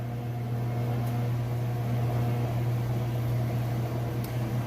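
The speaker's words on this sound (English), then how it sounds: "I'm going to lift this lid up and show you that it is in fact spinning nice and fast." Roper top-load washing machine on its spin cycle, a steady loud mechanical hum with a low drone and broad whooshing noise, unbroken and close.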